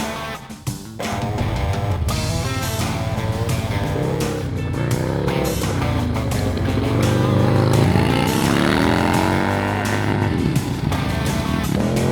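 A dirt bike engine revs loudly and continuously near a G-Wagon with a trailer hitch, its pitch rising and falling through throttle blips, close up with no pauses.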